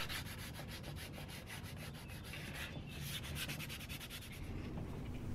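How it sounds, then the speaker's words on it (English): Sandpaper scrubs steadily across a primed 3D-printed sword, a continuous close rasping rub with rapid back-and-forth strokes throughout, no voices. "it is helpful to use a couple of different colors of the primer just so you can see how deep you're sanding each time"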